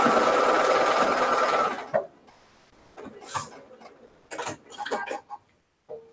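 A sewing machine stitches an eighth-inch seam on a tiny checkerboard quilt block, whirring steadily and loudly for under two seconds before stopping. Quieter handling noises and a few brief vocal sounds follow.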